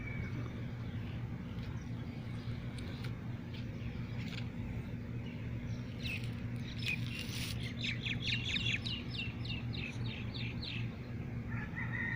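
Several myna birds call with harsh squawks and rapid chattering notes over a steady low rumble of traffic, the calls bunched in the second half.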